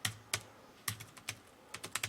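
Typing on a computer keyboard during a word-processing exercise: irregular clusters of clicky keystrokes with brief pauses between bursts, close and fairly quiet, with no voices.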